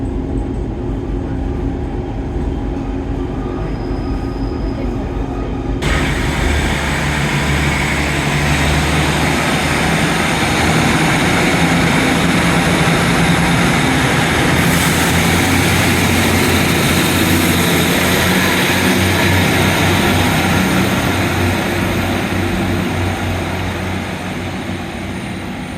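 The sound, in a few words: train departing for Exmouth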